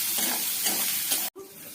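Steady crackling sizzle of onion and green chili frying in hot oil, with a brief abrupt cut near the end before the sizzle resumes more quietly.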